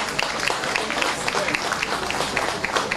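An audience at a gala night applauds in memory of a deceased man, a dense, sustained patter of many hands clapping with sharp individual claps standing out throughout.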